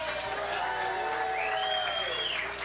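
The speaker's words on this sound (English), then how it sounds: "A little bit of a roar from the crowd here in Penticton." A crowd at a curling match in Penticton, at the final of the Ashley Home Store Curling Classic, lets out a steady, fairly loud roar of cheering and applause that rises and swells throughout, with an announcer's voice layered over the noise.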